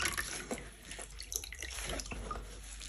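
Dirty cuff elastics of a natural leather jacket are rubbed and wrung in a little water, giving faint irregular drips, splashes and wet squishes.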